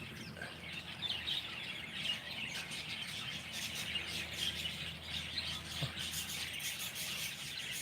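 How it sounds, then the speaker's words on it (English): Many birds chirp and call outdoors on a spring day, a dense steady chorus of thin high tweets that stays fairly faint and continuous throughout with no voices over it. "there's so many birds around here today"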